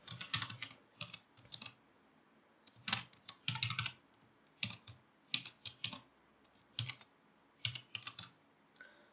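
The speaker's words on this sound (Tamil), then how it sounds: "நான் ஹலோ வேர்ல்டுன்னு டைப் பண்ணுறேன்." Someone types on a computer keyboard during Python programming, producing quiet, close clusters of rapid key clicks in short bursts separated by brief pauses.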